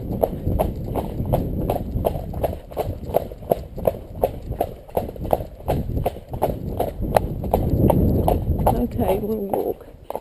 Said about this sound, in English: he's trotting on happily, but he'd be equally happy to walk